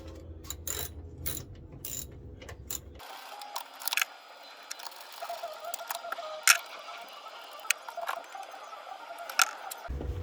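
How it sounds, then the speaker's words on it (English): A ratchet works loose the 10 mm tail light bolts on a Honda Ridgeline: quick, close metallic clicking in short bursts with small knocks and handling sounds, and no voices. "I'm going to unbolt the tail light here"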